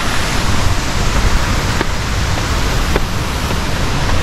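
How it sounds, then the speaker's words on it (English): Steady broadband rush of Jembong waterfall in Bali heard from a distance, a continuous even roar of falling water with no breaks and no voices. "You can already see the waterfall in the distance"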